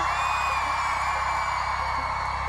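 A large audience at a SWE Day event screams and cheers in a steady, loud roar, with shrill whoops riding over the crowd noise.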